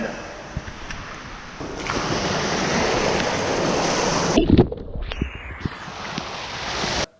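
Rushing water from a waterfall in Vienna, a steady broadband roar that runs loud and continuous, shifting partway through as if the position changes, then cutting off abruptly at the end.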